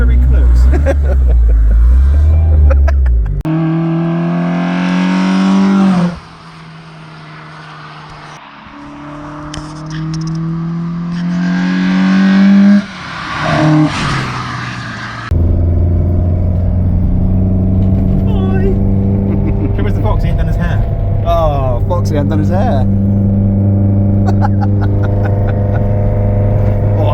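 A Citroen AX 16v running individual throttle bodies roars on a dyno, its induction noise rising and falling in pitch with throttle, loud and close while people talk over it.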